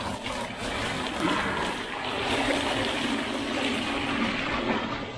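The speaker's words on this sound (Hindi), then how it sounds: "ये पानी पूरा उबल गया है, अब इस पानी को एक दूसरे बर्तन पे डालना है।" Boiled water is poured from one pot into another while cleaning a chimney mesh filter at home. It makes a steady, close, rushing splash that runs unbroken throughout.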